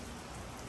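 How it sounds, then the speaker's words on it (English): Heavy pouring rain makes a steady, dense hiss with no break or variation, filling the short stretch alone with no voices. "It's pouring raining."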